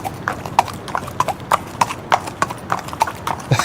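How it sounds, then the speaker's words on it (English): A horse's hooves clip-clop on a hard surface in a steady walking rhythm, with crisp, distinct strikes repeating about three times a second, close and prominent. "There's the horse."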